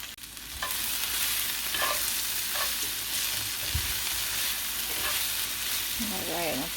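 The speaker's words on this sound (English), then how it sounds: "let these sit here and get a really nice sear on the bottom of them" Chicken fajita pieces sear in a hot pan with a steady, loud sizzle throughout, broken by a few soft scrapes and clinks of a utensil.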